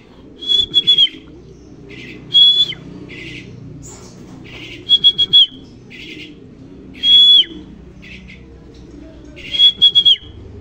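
A pet bird gives repeated bursts of chirps and whistled squawks, loud and close, spaced a second or two apart over a low background murmur.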